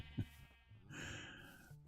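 A sheep in the Minecraft video game gives a short bleat, moderately faint, alone without talk.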